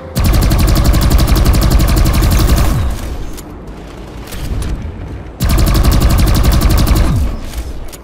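Rapid automatic gunfire in the video game PlanetSide 2 rattles in long sustained bursts, loud and close, with a short pause of quieter shots between two heavy volleys.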